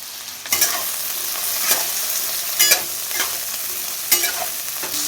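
Potatoes tipped into hot oil sizzle steadily, broken by several loud scraping stirs of a spatula at irregular intervals, close and without any voice.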